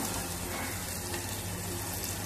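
Chopped onions sauté in a pan, giving a faint, steady sizzle and hiss that runs throughout without a break.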